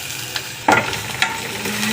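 Garlic and onions sizzle in a hot pan, a fresh hiss bursting up as ingredients hit the oil, followed by quieter frying and light stirring scrapes.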